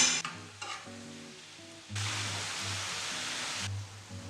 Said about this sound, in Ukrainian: Перемішую все.